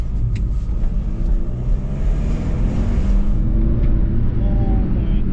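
Steady low road rumble and engine drone from inside a cheap used manual BMW with full service history while driving, continuous and fairly loud throughout with no speech.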